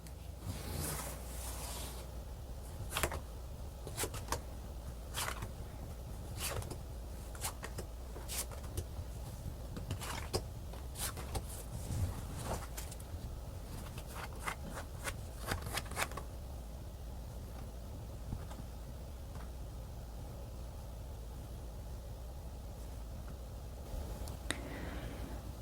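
Tarot cards being shuffled and drawn for a reading, soft close rustling with scattered sharp snaps and flicks across a quiet room.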